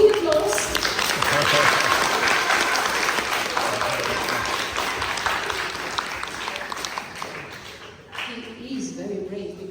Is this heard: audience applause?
yes